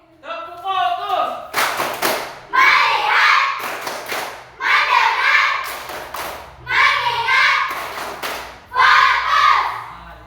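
Children in a class clap together in short rhythmic bursts, several rounds of sharp near claps separated by brief pauses, with children's voices chanting between and over them.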